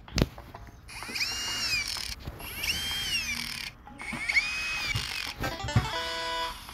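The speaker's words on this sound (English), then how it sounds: "The drill." Cartoonish drill sound from the Dumb Ways to Die 4 mobile game, three bursts of whirring, rising-and-falling mechanical buzzing separated by short pauses, followed by a brief ratcheting jingle, clear and close with no talking.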